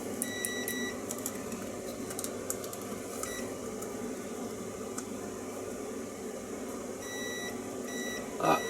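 An electrical continuity tester beeps in short tones that come and go toward the end, faint against a steady background hum.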